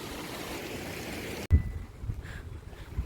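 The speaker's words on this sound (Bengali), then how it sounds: "ঝর্ণার জল এভাবে বয়ে চলেছে।" Steady broadband rush of a waterfall stream near the Adi Kailash route by the Nepal border, source of the Kali river, fills the first half, then cuts to a quieter stretch with low rumbling and faint wind.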